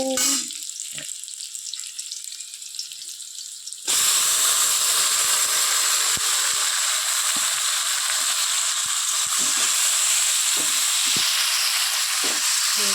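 Onions fry in a pan with a loud, steady sizzling hiss that jumps up at about four seconds and holds, with small clicks and stirring knocks through it.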